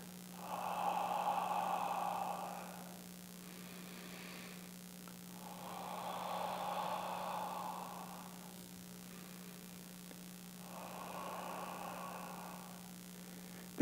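Three slow, open-mouthed exhales, soft and breathy, each lasting a couple of seconds with quiet pauses between them, over a faint steady electrical hum.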